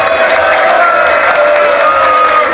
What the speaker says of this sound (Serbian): A može jedan aplauz